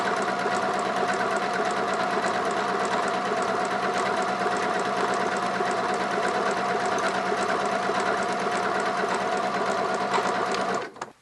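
A sewing machine runs continuously, stitching parallel decorative rows on fabric with a twin needle, its motor humming steadily alongside a fast rhythmic needle clatter until it stops near the end.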